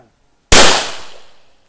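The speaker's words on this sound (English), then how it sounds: "Femi's first shot" A single sharp gunshot cracks loudly at an outdoor shooting range in Lipa, Batangas, fired by a first-time shooter, then rings out in a decaying tail after a brief silence.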